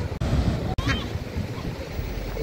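Waves wash steadily on Zalala beach near Quilimane, Mozambique. The surf is a broad rushing noise mixed with heavy wind buffeting, and a faint voice sounds briefly.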